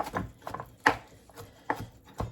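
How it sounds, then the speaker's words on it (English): A knife chops ingredients for crawfish rangoon on a cutting board, a handful of sharp irregular thunks close by with quiet gaps between, no talk. "Now I'm going to chop these here up some."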